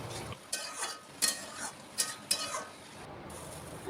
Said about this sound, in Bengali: বেশ কিছুক্ষণ পরে ঢাকনা খুলে নিয়ে এইবার ভাজা বড়িগুলো এতে অ্যাড করছি। এবার কিছুক্ষণ একটু ফুটিয়ে নেব